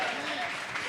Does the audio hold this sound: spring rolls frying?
no